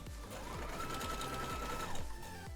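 A sewing machine stitches a narrow hem in a fast, steady mechanical chatter, close and continuous for a couple of seconds with no talking.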